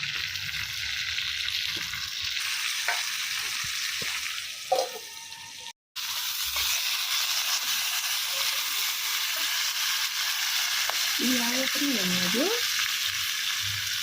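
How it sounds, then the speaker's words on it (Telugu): Cumin seeds frying in a pan over a husk-fired stove give a continuous crackling sizzle, with a brief silent gap and some light clinks and scraping partway through, no speech. "అంత జీలకర్ర వేస్తున్నాను"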